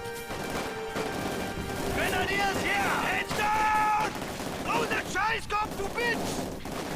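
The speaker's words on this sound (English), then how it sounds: "it might be worth launching some rifle grenades at these guys" Rifle grenades launched during a Wehrmacht-versus-Soviet battle in the WWII strategy game Company of Heroes 2, heard as a dense, continuous din of gunfire and explosions with sharp bursts and unit voices in the mix.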